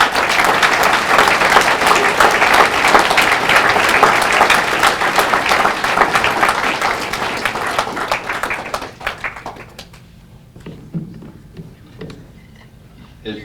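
A room full of people applauding loudly and steadily at an award event, then the clapping thins out to a few scattered claps.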